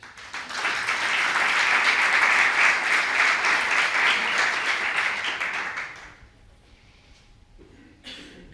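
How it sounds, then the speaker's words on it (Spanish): Applause for Marian Cano, regional minister of Industry and Innovation of the Valencian government, at the Valencia Silicon Forum 2025 welcome: a full hall's sustained clapping for about six seconds, then fading to a quiet room. "ahora ruego un aplauso para Marian Cano, consellera de Industria e Innovación de la Generalitat Valenciana"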